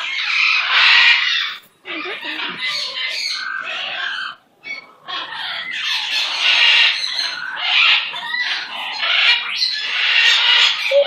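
A pet bird squawks loudly and close up in long, harsh, continuous bursts with only brief pauses, indoors at home.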